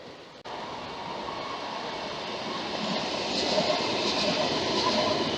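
Tram rolling along a railway track beneath a footbridge, a steady broadband rumble that swells gradually as it draws nearer and stays loud to the end, with no voices.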